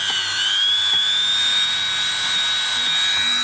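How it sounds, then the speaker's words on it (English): A Dremel rotary tool runs steadily at high speed, scrubbing surface rust off a part of an Ansonia Bee alarm clock movement, giving a continuous whining buzz close up with faint scraping under it. "that'll do for the Dremel at the moment"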